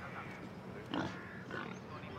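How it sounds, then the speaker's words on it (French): A pig grunts and oinks in the video game Assassin's Creed Odyssey, a few short, low snorting bursts, fairly quiet against a faint background. "Il y a un cochon."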